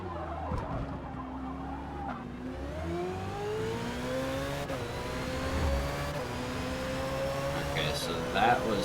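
A Ferrari 488 in Forza Motorsport at Hockenheim revs and accelerates through gear shifts, the engine note climbing in pitch several times with brief tire skid sounds, close and steady throughout.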